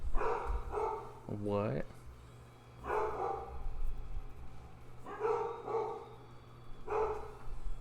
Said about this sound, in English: I have dogs. They're very quiet. Occasionally you might be able to hear them though.